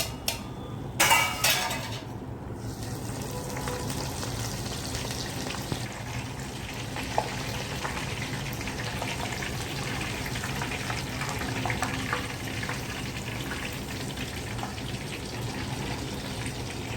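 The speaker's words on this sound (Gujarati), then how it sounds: "મરચા પણ તળી નાખીએ।" Chillies frying in hot oil for nylon poha chevda, giving a steady soft sizzle with a few brief clinks of utensils near the start.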